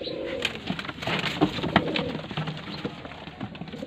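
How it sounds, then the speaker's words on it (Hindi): Sialkoti pearl-marked pigeon cooing close by among other birds, soft repeated coos over a busy background of bird calls at a pigeon and quail setup in Lahore. "ये सियालकोट मोतियों वाला कबूतर है"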